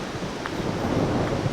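Thunder rolls low and continuous as a rainstorm approaches, with a soft hiss of rain or wind layered over the rumble and no voices.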